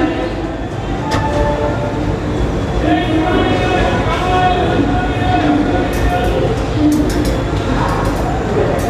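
Mumbai–Jabalpur Garib Rath Express stands at Bhusawal Junction station, a steady loud rumble and hum of the train with faint metallic clanks, while someone talks nearby.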